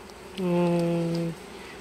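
Honeybees from a month-old swarm buzz around a small nucleus hive during autumn wintering prep, a steady close drone rising for about a second with harmonic tone, then dropping back to faint background hum.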